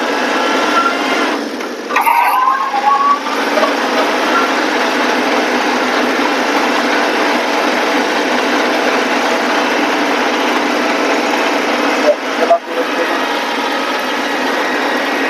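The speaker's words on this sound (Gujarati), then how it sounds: "આપણે આ ટ્રેક્ટરના રોટોવેટરથી એટલે કે મિની ટ્રેક્ટરના રોટોવેટરના મદદથી નિંદામણ સાફ કરવાનું ચાલુ કર્યું છે" A Kubota mini tractor with a rotovator clearing weeds in a papaya field, a steady high-pitched engine drone running continuously and close, with a couple of brief clunks partway through.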